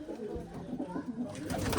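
Domestic pigeons coo in short, soft phrases at close range in a pigeon loft, with a faint shuffling background and no talk over them.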